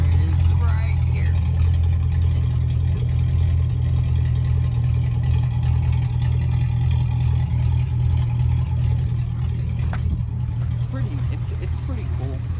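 A truck engine runs steadily through its muffler with a deep, constant low rumble that holds for the whole stretch, with faint mechanical clatter above it and no clear revving.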